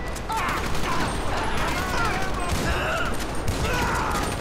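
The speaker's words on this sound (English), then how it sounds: "That's a long distance to shoot a shotgun." Shotgun fire rings out during the Paleto Bay bank heist in GTA V, with bursts of loud, sharp video-game gunfire that overlap into a busy barrage, mixed with a voice talking over it.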